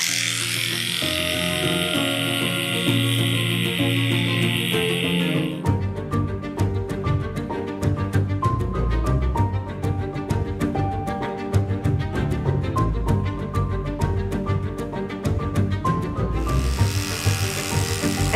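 Electric dog clippers fitted with a 7F blade shave heavily matted fur from a dog in a grooming salon, a loud steady motor buzz that continues nearly throughout, its pitch and texture shifting as the blade bites into the mats.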